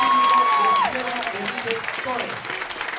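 A crowd applauds outside a municipal campaign office in Mazatlán, dense clapping and some cheering under a loudspeaker voice, a steady wash that continues after a sustained tone fades early on.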